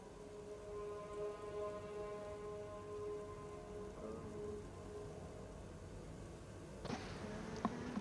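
Steady rain falls in a video game, a constant wash of drops on surfaces with faint tonal game ambience beneath, alone and even throughout, with a couple of sharper clicks near the end.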